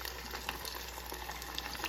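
Ingredients poured into a pan over low heat give off a soft, steady sizzling hiss that holds evenly throughout, faint and close with no talking.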